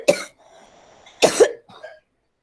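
A person coughing, two sharp separate coughs about a second apart, close and clear, with a faint throat sound trailing after.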